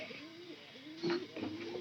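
Pigeons coo softly indoors in a house, a low rolling warble repeating a few times, faint and close, with brief rustles mixed in.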